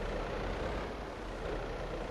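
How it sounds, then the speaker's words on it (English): A tractor engine in a farming video game drones steadily at a constant low rumble throughout, with no other sounds and no talk. "Okay, get back in the tractor"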